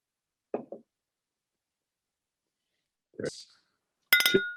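Whiskey glasses clink sharply together in a toast near the end, after a few soft knocks and brief murmurs.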